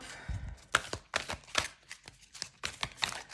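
Oracle cards are shuffled in quick, crisp bursts, about seven riffling slaps in a loose, irregular rhythm, close and fairly faint with no talking.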